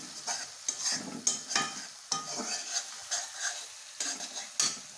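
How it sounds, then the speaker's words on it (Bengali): Spices fry in a pan with yogurt as a utensil stirs them, bringing rhythmic scraping strokes every half second or so over a soft sizzle, close and fairly quiet, with no talking. "মশলা একটু কষে নিই"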